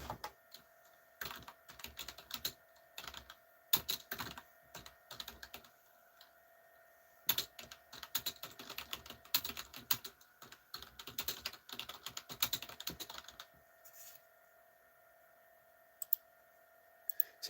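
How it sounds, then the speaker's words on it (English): Rapid bursts of typing on a computer keyboard, dense clicking keystrokes in close succession with a few short pauses, heard up close over a steady low hum with no talking. "you guys hear those fingers flying across the keyboard? It almost sounds like I know how to type."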